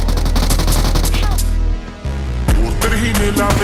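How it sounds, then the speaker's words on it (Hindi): Pump shotgun fire in the BGMI mobile battle royale game, with loud, close, densely packed shot impacts layered over busy in-game sound, then a short lull before the firing resumes. "मेरी पसंद भाई ये पंप शॉटगन है, जो कि भाई आज के टाइम पे भाई सबसे भाई ओवररेटेड गन मानी जाती है"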